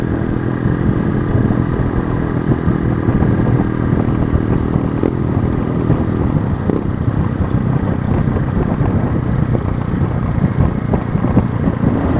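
A small Keeway CR152 motorcycle engine drones steadily at close range riding downhill in Laurel, Batangas, with wind rushing over the microphone and occasional rattles as it rolls along.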